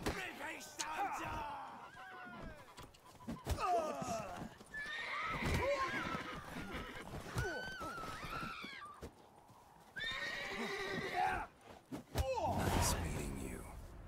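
Geralt's horse Roach in The Witcher, neighing and whinnying repeatedly with snorts and hoof clatter, close and loud, mixed with game voices and scuffling sounds.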